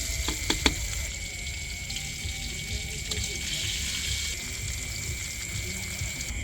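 Fried chicken cooks in oil over a slow fire, giving a steady, moderate sizzle with a few sharper pops and clinks near the start, continuous and even throughout.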